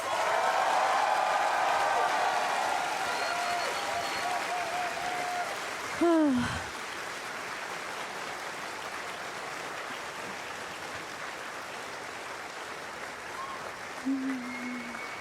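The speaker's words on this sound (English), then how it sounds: "let's have one final round of applause for our cosplayers" Applause from a convention crowd at a Warframe TennoCon stage event, honoring cosplayers, starts moderately loud and fades into a softer sustained clatter, with brief tonal sounds and a short burst of noise partway through.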